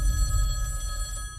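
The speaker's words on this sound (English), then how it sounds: "that phone over there is gonna ring" A telephone bell rings steadily in a tense movie trailer scene, a bright repeating tone carried over a low rumbling music bed, with no talk over it.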